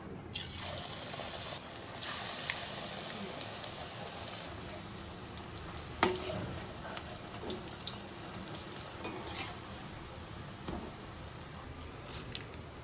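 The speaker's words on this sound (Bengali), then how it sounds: "সকালে টিফিনে তেলে ভাজা করছি, পেঁয়াজ, বাঁধাকপি এইসব দিয়ে তেলে ভাজা।" Onion and cabbage fritters frying in oil for a morning snack give a steady, close hiss of sizzling with a few sharp clinks and splashes, like utensils and water, scattered through it.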